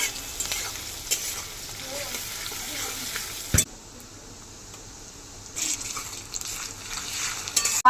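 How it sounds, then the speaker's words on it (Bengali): Country rooster meat is tipped into a cooked-down ground spice paste in a pan. It sizzles loudly while being stirred, with a sharp metallic clank midway, a quieter stretch, then frying and stirring again. "মশলা কষানো হয়ে গেছে। এবার মাংস মশলার ভিতরে দিয়ে দেবো।"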